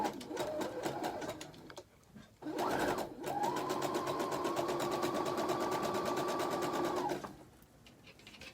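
A sewing machine stitches faux fur and elastic in close, loud bursts, with a brief run, a pause, then a longer steady whirring stretch of rapid stitching that stops abruptly before a quieter tail.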